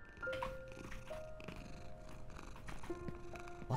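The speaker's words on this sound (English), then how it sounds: "it's a kitty purring" A cat purring inside the Only Up video game, a soft continuous rumbling purr running under clicky game sound effects and faint tonal chimes, with no talking.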